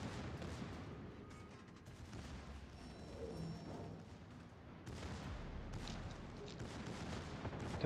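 Distant naval gunfire rumbles in World of Warships: Legends as a battleship fight unfolds, faint booms and muffled salvos rolling under steady background game noise, no voices heard.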